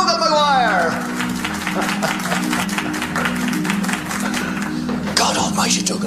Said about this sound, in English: Let's have a big round of applause for our very own Father Dougal McGuire.